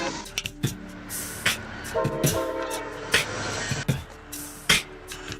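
A train rumbles past with clattering wheels while its horn sounds in long, steady blasts, mixed with sharp clicks and nearby background noise.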